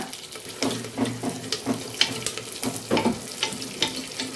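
Shallots, green chilies, dried red chilies, garlic and curry leaves frying in hot oil, with a steady crackling sizzle and occasional stirring clatter close by, no voices.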